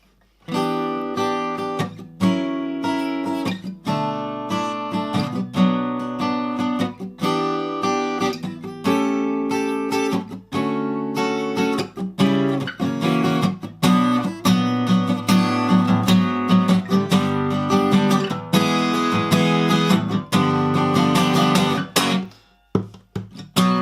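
A guitar plays a song from Steven Universe The Movie, a lively, busy tune with strummed chords and picked notes, steady and close throughout, briefly dropping out near the end.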